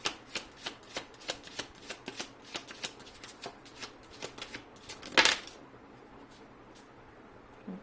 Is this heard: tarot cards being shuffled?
yes